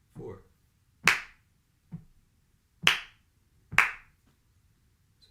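Four sharp hand claps in a steady rhythm with a gap where one beat is skipped, crisp and close, with faint low background murmur and a softer tap between.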